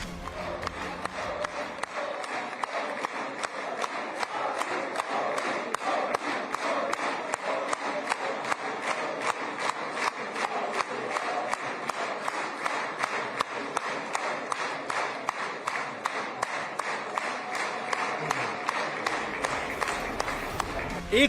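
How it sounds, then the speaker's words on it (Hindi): A crowd in the Knesset, Israel's parliament, applauds Indian Prime Minister Modi. The clapping is dense, rhythmic and continuous, with a steady beat and faint voices mixed in. "पीएम मोदी के सम्मान में तालियों की गड़गड़ाहट"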